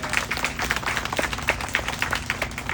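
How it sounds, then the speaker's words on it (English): A round of applause from a community audience, a brief stretch of fairly even, closely spaced clapping at moderate loudness. "Let's give yourself a round of applause."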